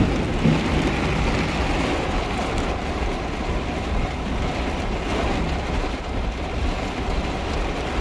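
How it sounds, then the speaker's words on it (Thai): Heavy rain pours during a first-of-season summer thunderstorm in Thailand, a dense, steady roar of drops drumming nearby with no pauses. "ตอนนี้ฝนตกแรงมากครับผม"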